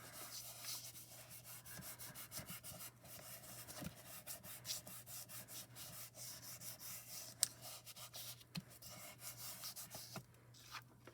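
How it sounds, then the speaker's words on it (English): Steady, faint rubbing and scraping as glitter is burnished firmly into adhesive through wax paper, repeated strokes in a quiet room. "So what I'm doing is pressing all of that glitter into the adhesive very firmly"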